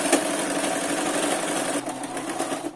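A sewing machine runs steadily, stitching long strips of old clothes together for a homemade doormat. Its close, continuous whirring motor and rapid needle chatter continue throughout, with only small dips in pace.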